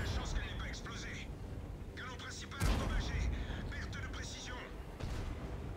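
Tank cannon fire in a World of Tanks-style battle involving a Bat Chat 25t: a sharp heavy boom midway, another later, over continuous battle rumble and engine noise, with players talking over it.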